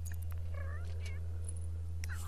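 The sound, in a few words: cat meowing in video game The Sims 3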